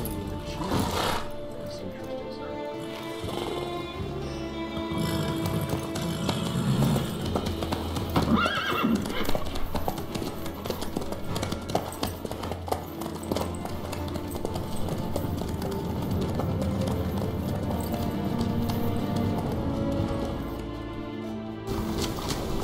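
Horse hooves clip-clop at a steady trot in a video game, with occasional neighs, continuing for over twenty seconds under spoken dialogue.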